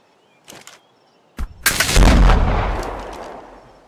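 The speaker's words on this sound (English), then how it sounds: "Who are you shooting at? That croc over there." Gunfire in the video game Ark Survival Evolved Aberration, aimed at a crocodile: two faint distant pops, then a loud, close blast that rumbles and decays slowly over a couple of seconds.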